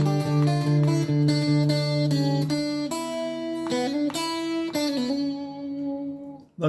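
A guitar plays the intro riff, a run of picked melodic notes over a sustained low note, close and clear with no talking, fading at the end.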